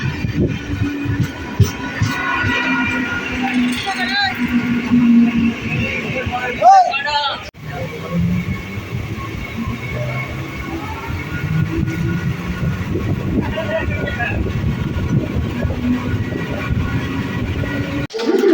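A train rumbles into a station with a steady low mechanical drone and rattling, a brief clunk partway through, while the rolling noise continues throughout; the train is bound for Sealdah.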